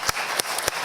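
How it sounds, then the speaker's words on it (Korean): A church congregation claps in praise during an Easter worship service, several loud, evenly spaced claps ringing out close by. "주님께 이 시간 한번 우리 영광의 박수를 한번 드려봤으면 좋겠습니다"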